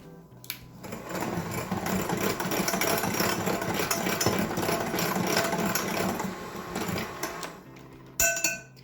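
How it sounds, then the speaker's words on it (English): Flour, baking powder, salt, white sugar and cocoa powder are mixed together with a loud, continuous mechanical whirring that runs steadily for about seven seconds before cutting off, followed by a brief clatter. "our white sugar, and then our cocoa powder. And I'm going to quickly give those a mix together"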